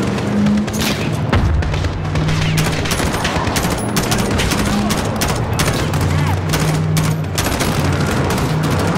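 Dense gunfire crackles throughout a firefight in Call of Duty: Modern Warfare (2019), rapid automatic bursts and heavy booms overlapping continuously at close range, with a low steady hum running underneath.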